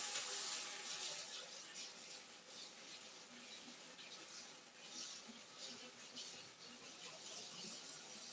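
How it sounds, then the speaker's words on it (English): Tap water runs steadily from a faucet as hands are washed in a kitchen sink while a turkey is being seasoned, a constant close hiss throughout with no talking. "Let me wash my hands real quick."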